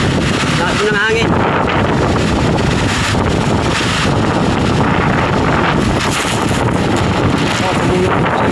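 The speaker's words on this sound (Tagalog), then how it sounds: "Lakas ng hangin." Strong afternoon wind buffeting an outdoor microphone, a loud continuous roar with gusty surges throughout, and a brief voice near the start.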